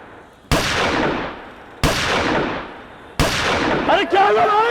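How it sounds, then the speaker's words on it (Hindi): Three sharp, loud gunshots ring out with long reverberant tails, spaced about a second and a half apart, in a residential setting at night during a power outage; a voice calls out briefly after the third. "पटाखों की नहीं है, गोली की आवाज़ है शायद।"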